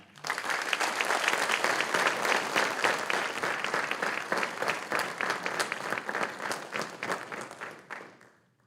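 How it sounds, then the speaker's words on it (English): Sustained applause from a crowd at a high school senior recognition night in Dodgeville, steady clapping throughout that fades out at the end. "Give them one more round of applause"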